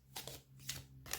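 Oracle cards printed on quality paper being shuffled by hand, three soft riffling bursts close by with short pauses between them, and no one talking.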